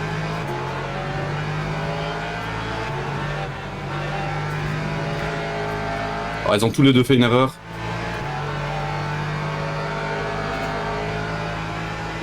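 Race cars, including a white Porsche and a Mustang, drone steadily at Spa in the Le Mans Ultimate endurance racing game, with a brief burst of harsh engine and tire noise midway, under continuous conversational talk.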